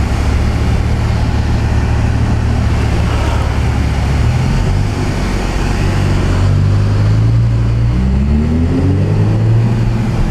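A BMW M5 S85 V10 engine in a Wiesman MF-5 Roadster rumbles steadily in Monte Carlo, Monaco, then rises in pitch as it revs up toward the end, loud and close under constant roadside ambience.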